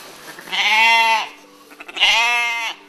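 Crossbred sheep on a small farm in Cornsay, County Durham, give two loud, close bleats in quick succession, each wavering and drawn out for about half a second.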